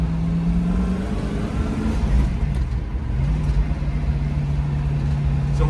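A 1967 Shelby GT350 in Candy Apple Red with a 4-speed and Polyglas tyres, pushed hard through a corner: a loud, close V8 engine note that holds steady, dips briefly, then climbs again with a sustained tone.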